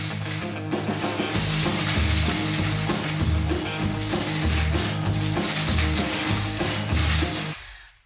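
Vanilla vodka cocktail rattling in a shaker, with a steady, loud rhythmic shaking of ice that runs for several seconds and stops abruptly at the end.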